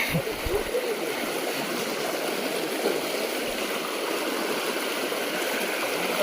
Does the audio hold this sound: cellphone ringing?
no